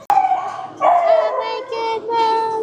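Small puppies whimper and howl in a barn intake area, a sharp tap followed by several wavering high cries close by, with faint voices in the background.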